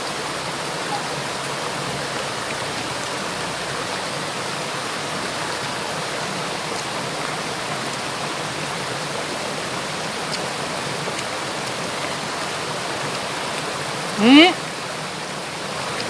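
Ton Pliw waterfall in southern Thailand rushes in a steady, broad wash of falling water, loud and constant throughout, with a brief chirp-like sound near the end.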